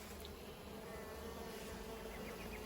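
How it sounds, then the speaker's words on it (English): Honey bees hum in a top bar hive during a spring inspection, a faint, continuous buzzing drone that stays steady and close without any speech. "Here you can see something really interesting, these two bees here."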